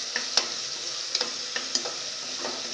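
Vegetables for biryani sauté with turmeric and rock salt, a steady soft sizzle in the pan broken by a few light ticks and taps of the spoon, close and fairly quiet, with no voices.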